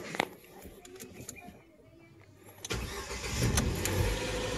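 A Ford EcoSport engine starts after quiet ticking, catching suddenly and settling into a steady, fairly loud idle hum that continues to the end.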